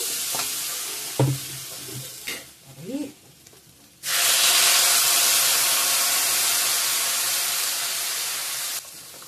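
A few stirring scrapes and clinks against a pan of fried spices for an egg curry with taro and potato. Then water is poured in and a loud, broad steam hiss bursts up and holds, slowly fading.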